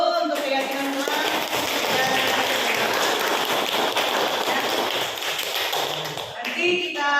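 A school class claps hands together, a dense, sustained patter of many hands that swells and continues for several seconds, with voices at the start and end.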